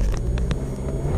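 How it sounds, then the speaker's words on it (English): A 2006 Ford Mondeo Estate LX with a 115 bhp TDCi diesel engine fires up, a brief low rumbling start close by with a couple of sharp clicks and no voices. "Car starts up fine."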